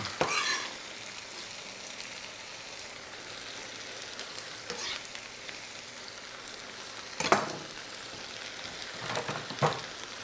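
Green chili simmers and fries in a tomato mixture for shredded beef, giving a steady soft sizzle and bubbling, with a few louder stirring scrapes scattered through about ten seconds.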